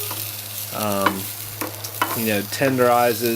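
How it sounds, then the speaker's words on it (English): Food grilling on oil-basted cast iron grates gives a steady close sizzle throughout, with a person talking over it. "there's nothing better than grilling on cast iron grates"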